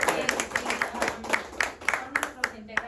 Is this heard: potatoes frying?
no